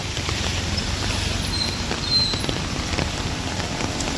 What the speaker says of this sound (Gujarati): વરસાદની આજ ફૂલ લગાવી છે